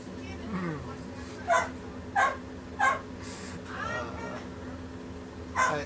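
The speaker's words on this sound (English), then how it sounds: "is Puffer barking at you?" Small dog Puffer gives several short, sharp barks spaced a second or so apart, fairly near, over a steady background hum while a person talks.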